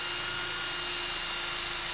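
A high, steady whine of an electric drill with dull bits running continuously, boring at constant speed without pause, close and fairly loud.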